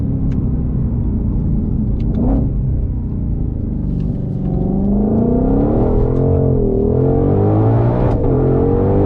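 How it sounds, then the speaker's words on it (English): A 2021 Ford Mustang Shelby GT500 engine revs hard up to its rev limiter, loud and close, a deep rumbling drone that climbs and wavers in pitch with sharp stuttering bursts near the top. "It's that rev limiter hard."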